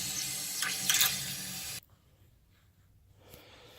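Water pours steadily into a 90 gallon glass aquarium that has just been re-sealed, a loud broadband rush that cuts off abruptly midway, leaving a quiet room with faint trickling afterward.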